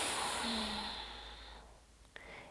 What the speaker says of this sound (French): quand on va expirer complètement par le ventre en chassant tout l'air des poumons